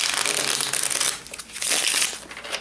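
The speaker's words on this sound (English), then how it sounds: "we're gonna give this a shuffle" Onirim game cards being shuffled, a short burst of bright papery riffling and crinkling heard up close with no talking.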